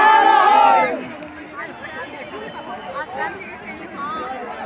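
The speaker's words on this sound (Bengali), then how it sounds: "অস্বাভাবিক ভিড়।" A huge, dense crowd at Sangam ghat during the Maha Kumbh in Prayagraj makes a constant murmur of many voices. A loud nearby voice rises above the chatter at first, and the babble then continues at a lower level.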